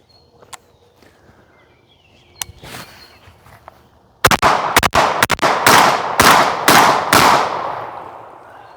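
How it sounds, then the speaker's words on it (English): A Mossberg 930 shotgun fires slugs at an outdoor range: after a quiet stretch with a few faint distant pops, about eight loud booming shots come in a rapid string, each ringing out briefly. "I'm having a ton of fun out here with my shotgun"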